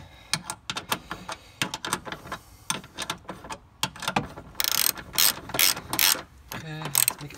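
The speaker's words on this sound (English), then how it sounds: "Let's tighten up this little bolt here," Ratchet wrench tightening the battery terminal bolt on a Toyota Prius during a new 12V Yuasa S46B24R battery install, sounding as close, rapid bursts of clicking strokes with short pauses and no talk.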